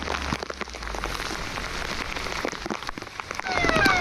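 Rain pours steadily onto surfaces during a monsoon outing near Lonavala, a dense continuous patter with scattered louder drops, swelling slightly toward the end, with no voices.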